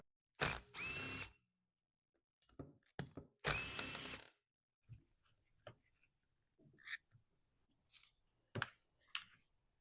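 A power driver whirs in two short bursts, removing T20 screws from a Husqvarna 240 chainsaw, followed by scattered clicks and rattles of small parts being handled nearby.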